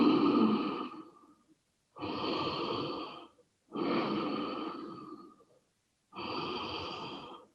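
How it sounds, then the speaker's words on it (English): Ujjayi yoga breathing in a quiet room: four slow, close, audible breaths with a soft oceanic hiss through a constricted throat, each lasting about one to two seconds and separated by short silences. "You can do your Ujjayi breath here."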